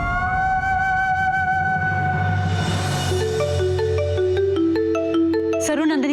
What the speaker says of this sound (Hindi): सरू, नंदिनी का फोन होगा।